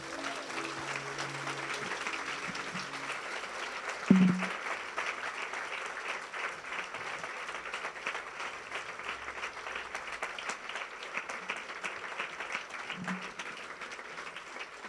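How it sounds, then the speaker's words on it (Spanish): A church congregation gives a long, steady round of applause in a large worship space, sustained and even, with a faint voice and a brief thump partway through. "Dáselo con tu mejor aplauso."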